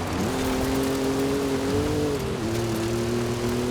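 Engine of a car racing in Forza Horizon 5 on PS5, a steady loud drone that climbs in pitch, dips at a gear change, then holds steady through the run.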